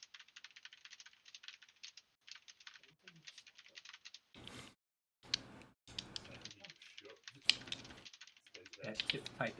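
Rapid clicks from typing on a computer keyboard come in bursts, with the rattle sounding close and fairly crisp, broken up by people talking over it.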